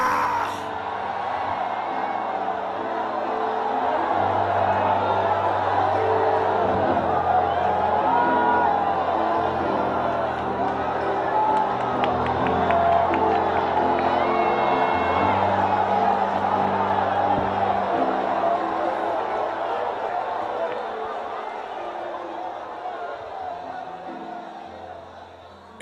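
A Pentecostal church congregation shouts a cry of glory together, a loud, sustained crowd roar of yells and whoops with music underneath, swelling and holding for about twenty seconds before fading out.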